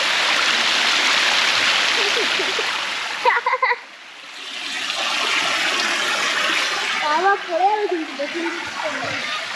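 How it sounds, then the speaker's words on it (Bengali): Water flows steadily in a stream at Murguma in Purulia, a broad continuous rush heard close by, while voices speak over it partway through. "এই জল ওখান দিয়ে যাচ্ছে।"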